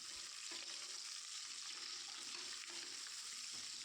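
Sliced onions with spices frying in oil for mushroom biryani, a steady close hiss and sizzle throughout with faint stirring scrapes.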